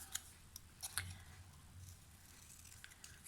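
Scissors snip a printed paper image for card making: a few quiet, crisp cuts early on, then soft faint handling against low background hum.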